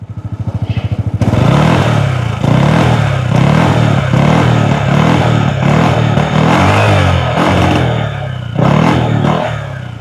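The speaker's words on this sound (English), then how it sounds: "So let's cut to the exhaust note" A VLF Mobster 135 scooter engine idles with a pulsing putter, then revs up to a steady, loud buzzing exhaust drone with repeated throttle blips.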